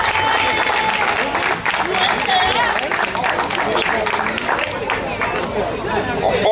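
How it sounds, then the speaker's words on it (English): Audience applause at a community event in a residential neighborhood, sustained dense clapping mixed with crowd chatter and cheering, loud and close throughout. "have everybody give them a round of applause"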